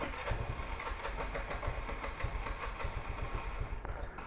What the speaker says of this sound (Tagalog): So isa ito sa mga issue guys ng EasyRide 150p pag cold start.